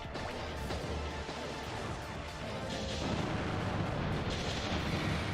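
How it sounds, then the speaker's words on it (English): Sword gun firing in the Custom Robo arena game on GameCube, a dense run of rumbling blasts and crashes that grows slightly louder near the end, with no talk. "I think it's called the sword gun."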